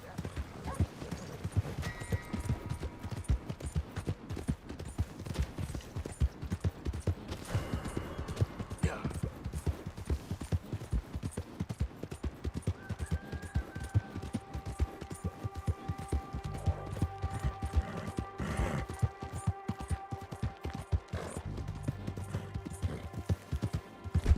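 Steady clip-clop of horse hooves in Red Dead Redemption 2, a fast, continuous trotting rhythm that runs throughout, with game ambience and a voice now and then over it.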